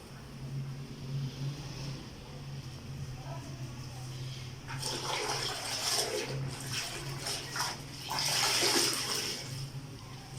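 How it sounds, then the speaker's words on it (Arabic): Wet mopping of a living room floor with water and disinfectant, heard as soft sloshing and swishing strokes that grow louder in the second half over a steady low hum, with some voice in the background. "هبدأ بقى ايه امسح الصالة"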